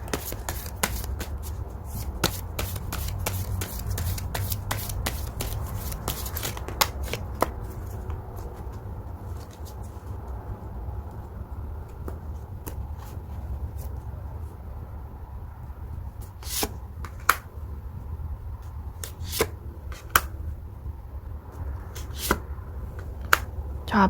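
Tarot cards being shuffled and drawn, a run of crisp riffling slaps and flicks that come fast at first, then thin out to scattered single card snaps over a steady low background hum, with no talking.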